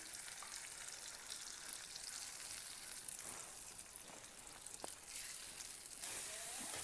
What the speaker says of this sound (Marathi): कांद्याची प्युरी परतत आली तर मी त्यामध्ये टोमॅटोची प्युरी पण टाकून घेतली सगळी